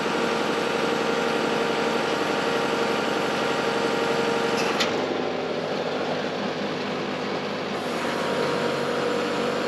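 A Case 580 SE backhoe's diesel engine runs in a loud, continuous drone while the outriggers are raised, the tone shifting slightly as the hydraulics work, close and without talk.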